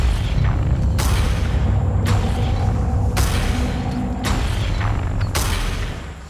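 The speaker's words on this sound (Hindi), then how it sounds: "बताओ, ये तो गोलियों की आवाज है ना?" Gunshots ring out at fairly regular intervals, about five sharp cracks over a low rumbling background, each with a short echoing tail.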